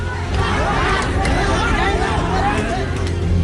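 A dense crowd of people, a mob armed with sticks and clubs, fills the air with loud, continuous hubbub and overlapping shouting voices, steady throughout and close by.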